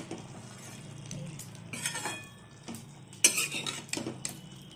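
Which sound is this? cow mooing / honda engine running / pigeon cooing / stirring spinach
stirring spinach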